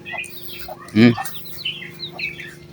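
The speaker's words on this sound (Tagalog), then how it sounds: "Ang ganda ng manok ko." A single loud cluck from a nearby chicken stands out, surrounded by softer scattered bird chirps in a quiet outdoor setting by a lake.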